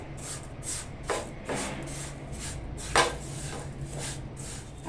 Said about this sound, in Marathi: आपण दहा मिनटं बारीक गॅस करून ना सतत डवळत राहून ना खरपूस असं भाजून घेऊया